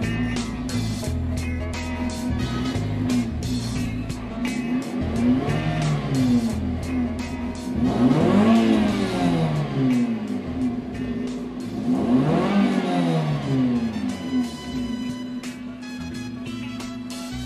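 A modified Suzuki Swift GT2, converted from a GX, with a custom exhaust and catalytic converter and an engine mod, revs repeatedly from idle in loud surging rises and falls, heard close up over a steady idle.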